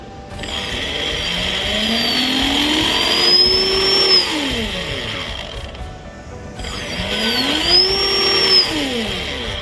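A fast-spinning brushless DC drone motor whines at a high pitch, its tone sweeping up and down twice, loud and close with no talking.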